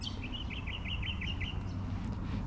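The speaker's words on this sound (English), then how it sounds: "There's actually a fan-tailed cuckoo calling from over in that direction." A fan-tailed cuckoo calling at the edge of Mookin bah Wetlands in spring, a thin descending trill of quick repeated notes that falls away over about a second and a half, heard at moderate distance over steady low outdoor rumble.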